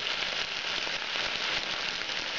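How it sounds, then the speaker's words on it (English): Onions crackle and sizzle steadily in a small, very hot pan over high heat, a dense, even frying hiss with fine popping throughout and no talking. "I turn up the heat a little bit just to really get the steam going from the onions. You hear it crackling."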